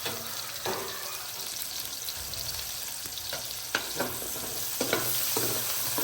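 Ginger and garlic sizzle in a frying pan while paksiw na bangus with pork belly is cooked. A dense, steady hiss of frying is broken by a few sharp clinks and stirring knocks.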